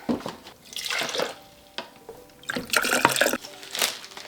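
Water splashes and trickles in uneven bursts, like liquid being poured into a container, with short pauses between pours.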